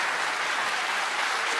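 A studio audience at a talk on breathing techniques for stress relief breaks into dense, sustained applause, an even wash of many hands clapping with no speech over it.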